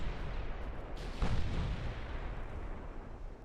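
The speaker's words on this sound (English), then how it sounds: "we just need 1 good hit with the big guns. Those are HE shells this time." In Ultimate Admiral: Dreadnoughts, a battleship's big guns fire HE shells, a single heavy boom over a constant low rumble of distant battle.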